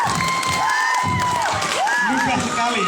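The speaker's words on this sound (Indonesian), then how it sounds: "tepuk tangan untuk Febri" Student audience at a school council (OSIS/MPK) candidate final in a junior high school applauds and cheers for a candidate named Febri: loud crowd noise with shouts and whoops over clapping, heard close and continuous.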